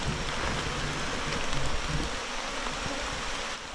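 Steady rain falls on a forest stream bed, a dense, even hiss of drops with light patter close by, continuous throughout and with no talking.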